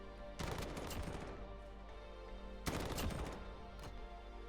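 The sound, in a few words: gunfire in video game Call of Duty: Modern Warfare (2019)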